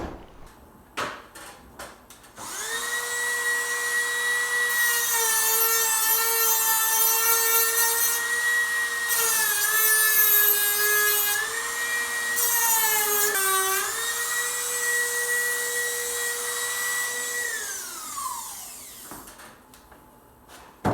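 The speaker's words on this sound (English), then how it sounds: "I ground off the top of a rivet tail that was sticking up" High whining grind of a tool cutting down a protruding rivet tail on the rear hatch of a 1940s vintage teardrop trailer, one long continuous close pass with slight pitch dips, no talking.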